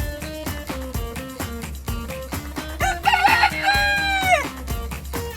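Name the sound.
chicken hen sound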